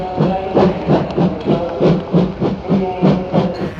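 A steam locomotive chuffs in a steady, even rhythm of loud puffs with hissing steam, close by and without any voices.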